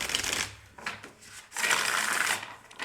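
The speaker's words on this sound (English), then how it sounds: "I felt the need to shuffle, so let's shuffle." Two bursts of rapid riffling cards being shuffled, close and fairly loud, the second burst longer, with no talking.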